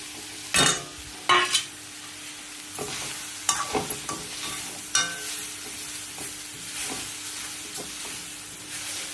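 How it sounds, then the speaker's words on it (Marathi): A coconut and puran mixture is stirred in a hot pan, with a soft background sizzle broken by several sharp spoon scrapes and knocks against the pan, close and without talk. "एक 2 मिनिटं सगळं मिक्स करून घ्यायचं."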